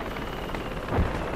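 A helicopter in the video game Project Reality thrums steadily as it comes in to land, a constant low rotor drone with a brief heavier thump near the end and no speech over it.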